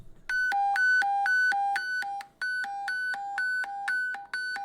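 A classic fire dispatch alert tone plays from a phone, a loud, clean two-pitch electronic tone that alternates high and low in quick, even steps, with a short gap midway before the pattern resumes.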